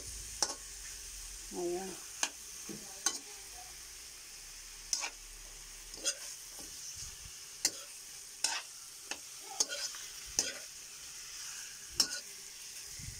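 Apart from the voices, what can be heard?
chicken sautéing with onion, garlic and ginger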